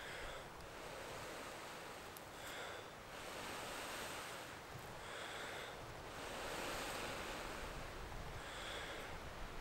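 Steady wind blowing through woodland in the UK, a broad continuous rush with gusts that swell slightly, buffeting the microphone and heard alone without voices.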